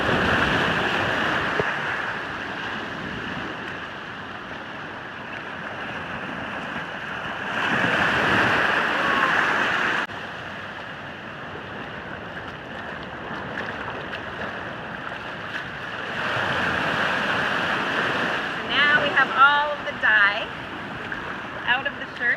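Ocean waves and surf wash steadily along a shoreline, a continuous roar with wind noise that swells in louder surges around the middle and end, while someone rinses a dyed shirt in the water.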